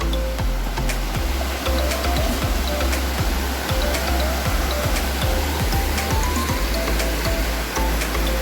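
Bekare waterfall near Bhivpuri, Karjat, Maharashtra, pours in a constant loud rushing roar of falling water, heard close up with no voices over it.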